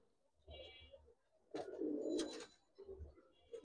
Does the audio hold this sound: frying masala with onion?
no